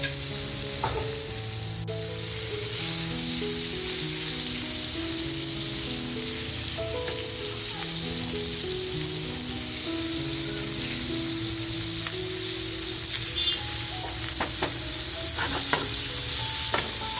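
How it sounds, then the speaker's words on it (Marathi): Fish pieces fry on a tawa for a spiced fish and spinach dish, giving a loud, steady, close sizzle that runs throughout, with faint tonal background sound beneath. "हलकी आपल्याला छान फ्राय करून घ्यायची आहे."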